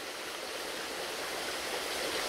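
Water drains out of a rock wall on rural land as a steady, even rushing and trickling hiss, fairly close and constant, with no talking.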